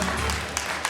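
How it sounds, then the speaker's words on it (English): Audience at a comedy hypnosis show clapping in a dense, steady wash of applause that fills the whole moment, with a voice talking over it. "Give him a huge round of applause."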